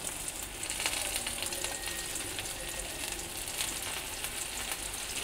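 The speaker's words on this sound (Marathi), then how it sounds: "आणि छान लालसर रंगावर आपण भाजून घेऊ।" Boiled corn cutlets shallow-frying in a little oil in a pan, a steady close sizzle with light crackles and a faint clink at the end.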